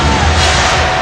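Arena crowd at a Kings at Suns NBA basketball game in Phoenix, 2005, roaring and cheering steadily during a Suns run, a dense, loud wash of many voices with no break.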